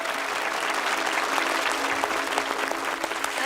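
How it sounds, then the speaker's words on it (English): Sustained, dense applause from a crowd, steady and loud throughout with no talking over it. "Let's have a very big round of applause for Celia."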